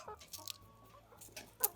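Young home-raised chickens from a farmyard flock cluck softly: a few short, scattered clucks and calls, faint and fairly near, with a slightly louder call at the end and no talking.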